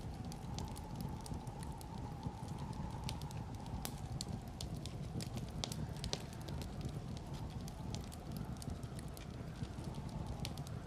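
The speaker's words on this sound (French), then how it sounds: "Les flammes crépitaient dans l'humidité et finissaient par s'éteindre." A fire crackles steadily with scattered sharp pops and snaps over a low rumbling roar, continuous and close, with no voices.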